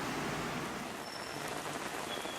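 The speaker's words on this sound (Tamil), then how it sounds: "காஞ்சிபுரம் மாவட்டத்தின் பல பகுதிகளில் காலை முதல் லேசான சாரல் மழை பெய்து வருகிறது" Light drizzle falling across Kanchipuram district, a soft, steady hiss of fine rain throughout, fairly quiet and even with no other sounds standing out.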